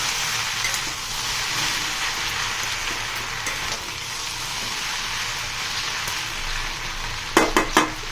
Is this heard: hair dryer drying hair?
no